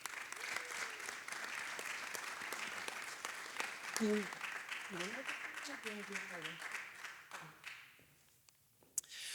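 An evening community meeting audience applauding to welcome a new city manager, steady clapping at moderate distance that fades out near the end, with a voice speaking over it.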